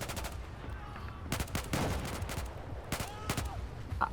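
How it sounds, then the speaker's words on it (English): Bursts of rifle fire from a SIG 556 in Battlefield 4, sharp rapid cracks in several clusters spread through the stretch over a low rumbling battle backdrop, moderately distant. "I think it's a SIG 556."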